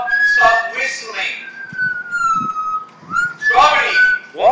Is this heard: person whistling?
yes